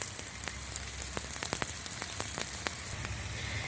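Semolina and vegetable snack shallow frying in a pan, a steady close sizzle with scattered sharp pops and crackles of hot oil throughout, no voices.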